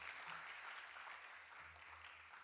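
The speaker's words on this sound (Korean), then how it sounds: "박수." A hall audience at a freshman spiritual retreat orientation claps steadily, a dense, even patter of many hands sustained throughout at a moderate distance, with no talking.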